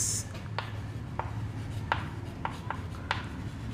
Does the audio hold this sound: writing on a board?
yes